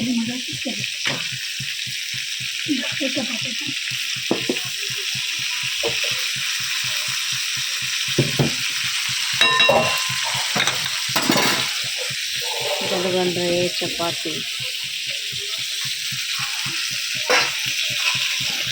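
Fish sizzling in a hot frying pan, a steady crackling hiss throughout with occasional scraping and clatter as pieces are turned, while people talk faintly in the background.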